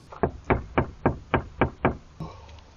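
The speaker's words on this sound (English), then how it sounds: "he obviously gets impatient and decides he wants to knock again" Seven sharp, evenly spaced knocks strike a camper van door, loud and close, followed by a brief faint rustle.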